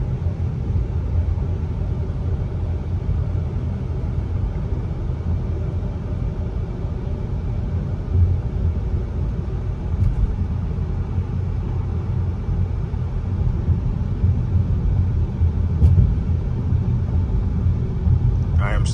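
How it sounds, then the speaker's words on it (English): A 2021 Audi A8L cruises and gradually slows on its own, heard from inside the cabin as a steady low road rumble and tire drone, with a voice talking over it throughout. "I am not touching the brake or the gas pedal. And the vehicle is slowing down on its own."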